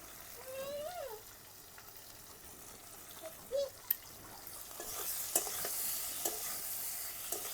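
Ground turmeric, cumin, coriander and chili powder with salt and green chillies fry in a pan for a rohu fish curry, starting as a soft sizzle and swelling into a louder, steady hiss with a few scraping clicks.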